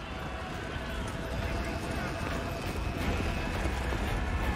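Many horses' hooves in Age of Empires IV pound together in a dense, continuous galloping rumble, loud and sustained, with a voice speaking over the din.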